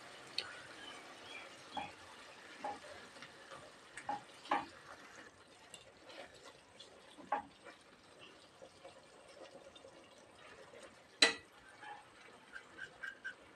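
Powdered semolina stirred in a pan for a crispy potato dish, heard as soft, irregular scrapes and clinks of a spoon against the pan, close and fairly quiet, with one sharper knock.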